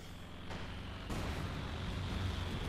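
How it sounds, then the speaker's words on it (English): In Company of Heroes 2, a called-in smoke bomb barrage lands with a low, rumbling series of muffled thumps that swell into a dense, continuous roar. The thumps are fairly faint and distant, and no voices are heard. "Smoke bombs called down."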